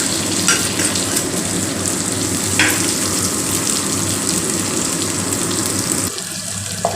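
Green beans dropped into hot oil with cumin seeds in a home kitchen, giving a steady loud sizzle with a few sharper crackles and a change in texture near the end.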